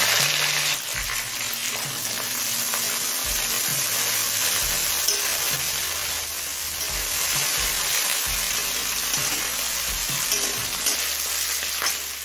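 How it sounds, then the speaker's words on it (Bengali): Steady, loud sizzling of onion stalks frying in a pan over low flame, with occasional scraping stirs and clinks throughout; no talking. "এবার গ্যাসের ফ্লেমটা লোতে করে দিয়ে পেঁয়াজ কলিটা দিয়ে দিলাম"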